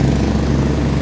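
A lawn mower runs nearby in a Delaware community garden, giving a steady, loud engine drone with no break over a brief moment.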